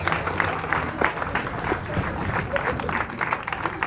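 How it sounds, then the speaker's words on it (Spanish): An audience applauds at an evangelical evening gathering in the Patria Nueva neighborhood of Tuxtla Gutiérrez, a steady wash of many hands clapping at close range, with a voice faintly heard beneath it. "Aplausos en esta noche"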